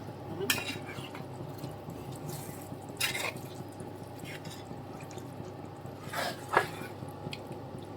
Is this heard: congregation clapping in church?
no